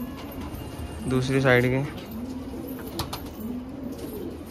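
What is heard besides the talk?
green dobaj pigeons cooing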